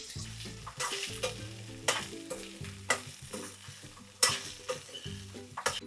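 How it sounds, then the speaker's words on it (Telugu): Mixed sprouts fry in hot oil in a pan, a moderate sizzle broken by repeated sharp scrapes of stirring at irregular intervals, with faint tonal music behind. "ఇటువైపు కూడా ఆయిల్ మరగబెట్టుకున్నాను, దీంట్లో స్ప్రౌట్స్ వేసేస్తాను అనమాట."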